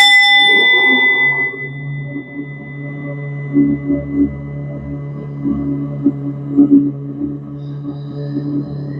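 A meditation chime bell strikes once at the start, its bright tone ringing out and slowly fading, followed by a low sustained hum and soft background sounds.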